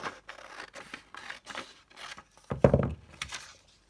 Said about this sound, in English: Hang on, I'll cut it off so you can see it.